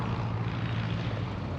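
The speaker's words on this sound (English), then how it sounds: "There's some school planes flying in, a bunch of those diamonds." Diamond training planes fly in at a busy airport, their propeller engines giving a steady droning hum that holds evenly throughout, moderately loud with no voices.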